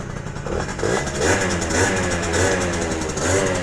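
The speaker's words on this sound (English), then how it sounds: "it's time to try out the little V8 style pipe on this little Elite we got here" A Honda Elite scooter with an aftermarket V8-style exhaust pipe, its engine cold, runs up close with a throaty, pulsing rumble that rises and falls as the throttle is blipped, continuous for the whole stretch.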